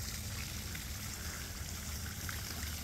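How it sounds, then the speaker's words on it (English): Water trickles and burbles steadily at a drain by a low lake, a soft, continuous flow heard alone. "Water circling back out."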